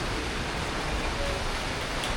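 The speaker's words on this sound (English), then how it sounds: "Pissing down rain, mate." Heavy rain pours down steadily in Brisbane, a dense, even hiss with no breaks, close and loud throughout.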